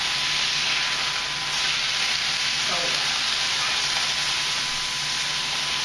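Spinach sizzles and hisses steadily in a hot mineral pan, with a faint stir or scrape partway through against the constant frying noise.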